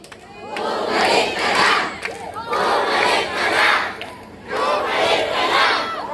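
A large crowd at a political rally for Isko Domagoso roars and chants in three loud surges, each rising and falling in rhythm with brief dips between them.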